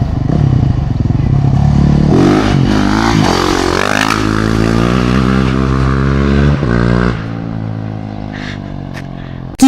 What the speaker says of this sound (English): since the WR is a 4-stroke single cylinder, it's not going to have the same kind of beautiful sounds we've heard from our other bikes